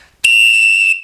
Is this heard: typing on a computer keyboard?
no